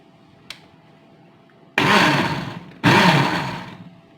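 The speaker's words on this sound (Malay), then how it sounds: "Kita blender cili kering ni dulu." Dried chillies and water whir in an electric blender in two loud bursts, each starting abruptly and slowly fading, after a brief click and near silence.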